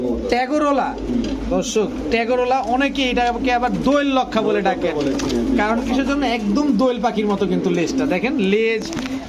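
Tagrola running-pair pigeons coo at a Bengali pigeon market stall, repeated low rolling calls close by and fairly loud, overlapped throughout by someone talking.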